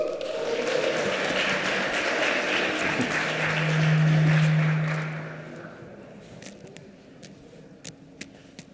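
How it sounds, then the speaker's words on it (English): Conference crowd at a London Web3 and crypto event claps to welcome a moderator to the stage, a dense round of applause that swells then fades out, leaving a few scattered taps at the end. "let's have a round of applause."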